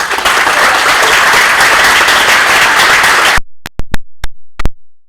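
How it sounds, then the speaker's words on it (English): A round of applause for the president of a flooring company at a dedication of a renovated home for a homeless veteran: dense, loud clapping for about three seconds, then breaking off abruptly into a handful of scattered late claps. "let's give Chris a round of applause"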